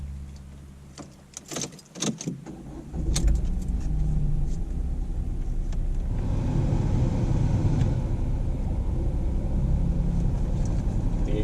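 A Ford Fiesta SFE with a 5-speed manual pulls away after some clicks and door or key clatter, settling into a steady low road rumble and engine drone as it drives, with no talking.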